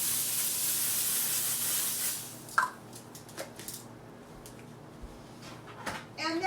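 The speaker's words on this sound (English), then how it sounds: "And I have some olive oil spray." A can of olive oil cooking spray hisses in a steady burst of a couple of seconds, followed by faint kitchen clicks and small handling noises nearby.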